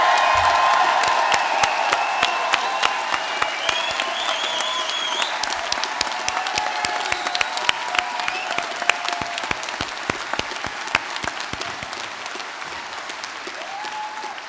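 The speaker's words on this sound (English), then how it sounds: "Let's have one more big round of applause for our graduating class." A large university graduation audience in Derry gives a big round of applause with scattered whoops and cheers, dense sustained clapping filling the hall with sharp individual claps standing out throughout.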